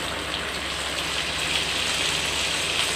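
Garlic sizzles in wood-pressed oil in a pan, making a dense, even crackling hiss that stays close and steady throughout.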